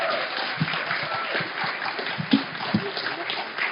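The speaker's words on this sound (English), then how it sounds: "Can you please give a round of applause for Daniela De Martino" Live audience applause at a political talk show recorded at Trades Hall, a dense steady patter of clapping across the whole stretch with a few louder claps standing out near the end.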